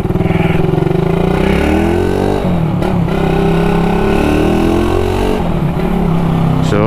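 A Suzuki Raider motorcycle engine revving loudly up close, rising and falling through two or three throttle pulls with a rough, buzzy exhaust note.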